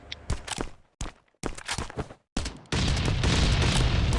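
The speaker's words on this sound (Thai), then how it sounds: "มันยิงเข้ามาที่บ้านเลยนะครับ" Gunfire in Last Island of Survival strikes a house: bursts of loud, close shots with short gaps between volleys, then a dense sustained barrage of rapid fire to the end.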